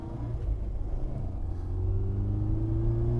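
A 1962 Austin Mini Cooper S pickup with a stock 998 A+ engine running smoothly, a steady low hum that swells slightly as it pulls along, with no talk.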